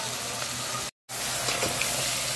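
Crab cooking in butter in a pan gives a steady broadband sizzle and crackle, close and continuous, with one abrupt silent gap of a fraction of a second partway through.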